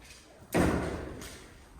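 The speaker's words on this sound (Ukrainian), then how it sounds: "Відчинилися двері. Відчинив мій оператор." A door in an abandoned village school is pushed open with a single hollow thud, followed by a softer knock about a second later over quiet room tone.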